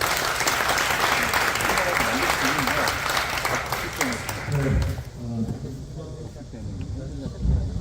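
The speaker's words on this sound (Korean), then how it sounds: "큰 박수로 보내주십시오" An audience at a staff training lecture gives loud, dense applause that runs for about five seconds, then stops abruptly as a speaker begins talking.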